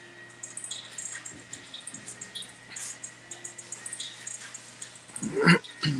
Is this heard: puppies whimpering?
yes